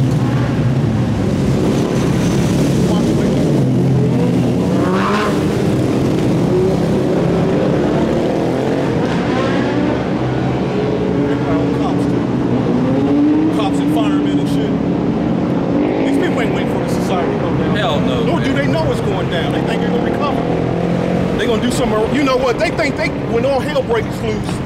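Engines of many dirt bikes roaring past in a large street ride, a continuous loud motor drone with revving surges throughout, voices talking over it.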